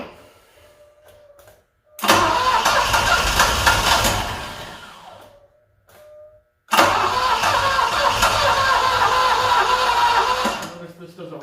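An Alfa Romeo Milano 75 track-project engine is revved hard at full throttle in two long, loud bursts separated by a brief lull, each rising roar holding for several seconds, with faint talk between.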